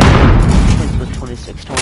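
Grenade explosion in the video game Call of Duty Warzone, a loud heavy boom whose rumble trails off over about two seconds, with a voice speaking over it.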